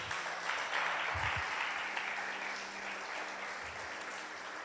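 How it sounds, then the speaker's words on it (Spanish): A church congregation applauds their Lord during a Sunday sermon, a steady wash of many hands clapping at moderate distance that thins slightly toward the end, with a few low thumps underneath. "Dele un aplauso al Señor."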